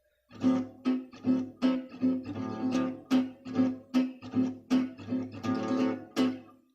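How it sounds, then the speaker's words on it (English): Guitar accompaniment played as a triplet roll effect, a regular series of sharp strummed bursts repeating about every half second, close and clear with no talking. "triplet roll. So it sounds like this."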